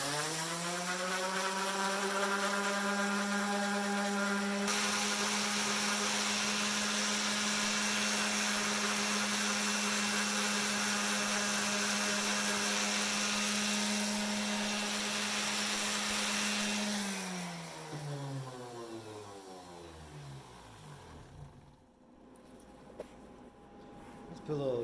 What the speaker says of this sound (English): Clean it up a little bit with an orbital sander.